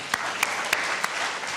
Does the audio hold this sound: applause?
yes